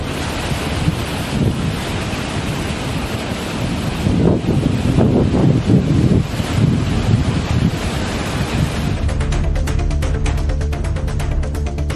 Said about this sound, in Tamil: கர்நாடக அணைகளில் இருந்து நீர் திறப்பால் ஒகேனக்கல் காவிரி ஆற்றில் நீர் ஆர்ப்பரித்து செல்கிறது